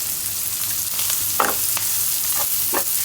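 Shrimp fry in a pan with a constant bright hiss of sizzling oil, punctuated by a few distinct scraping strokes of a spatula stirring, close and fairly loud with no speech.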